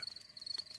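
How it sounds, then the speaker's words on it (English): A faint, steady high-pitched insect chirp sustained throughout, quiet and unbroken. "That is the sound of crickets chirping."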